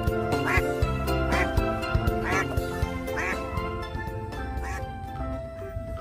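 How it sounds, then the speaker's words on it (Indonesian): Toy mother duck, yellow, quacking in a steady run of repeated quacks against a busy background of toy music and chimes, fairly close and clear. "ini ada induk bebek angsa"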